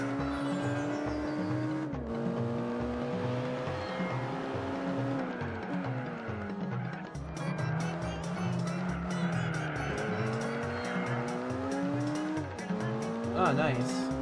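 A race car in Gran Turismo 4 drives with a high, shifting engine drone through long gears, with tire squeal on the corners, steady and loud, while a player talks over it.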